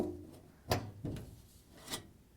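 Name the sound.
access panel being taken off an LG washing machine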